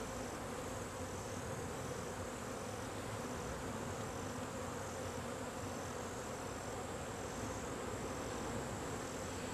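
Honeybees hum in a dense, continuous buzz as a frame is slowly lifted out from near the center of a hive, the swarm noise steady and close throughout.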